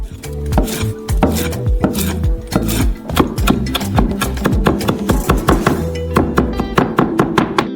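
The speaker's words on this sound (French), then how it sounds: "Hachez finement la menthe." Fresh mint being finely chopped with a knife on a board, a loud, close run of rapid, uneven thuds and taps that quickens into a fast rhythm, with no talk.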